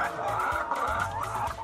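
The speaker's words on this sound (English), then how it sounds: "hello chicks, good morning chicks" Young chickens on a poultry farm in Sierra Leone, a dense continuous chorus of clucking and peeping from many birds close by, unbroken and fairly loud.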